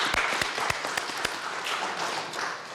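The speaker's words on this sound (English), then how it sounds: "So let's applaud them." A lecture audience gives brief, scattered applause, a few sharp claps standing out at first before thinning into a soft, fairly distant patter.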